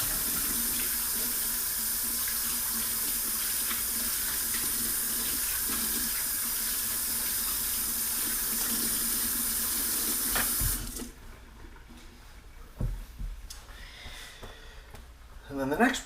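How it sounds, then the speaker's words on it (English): A kitchen sink faucet runs steadily while hands are washed after mixing meatball mixture, a loud, close, continuous splash for about eleven seconds before the tap shuts off, leaving faint clatter behind. "Let me wash my hands."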